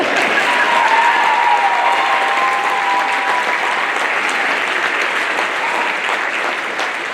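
Audience at a high school scholarship awards ceremony giving a long round of loud, steady applause, a dense crowd of clapping hands that fades slightly toward the end.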